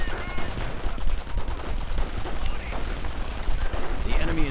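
Gunfire in a WWII strategy game, dense overlapping shots and machine-gun bursts crackling continuously with a voice talking over them.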